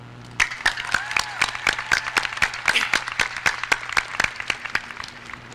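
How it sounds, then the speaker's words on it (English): A crowd of graduation-night spectators at an outdoor high school ceremony claps for graduates on the field, with loud, sharp, evenly spaced claps over a steady hum and a continuous crowd murmur. "let's give one more big round of applause for our graduates on the field tonight"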